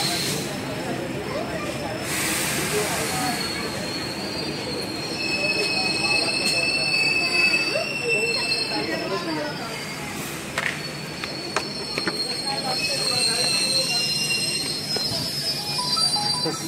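Train at Vaishali railway station on a morning trip, with steady rumble and wheel squeal, high metallic tones drifting through, and voices underneath.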